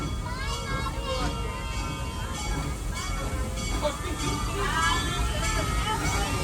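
The Serengeti Express, a full passenger train running from Nairobi Train Station toward Stanleyville, rumbles steadily beneath lively chatter and children's voices from riders on board.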